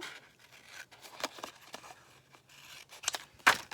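Scissors cutting a window out of cardstock, a series of crisp, close snips with short pauses between cuts, louder toward the end, with no talking.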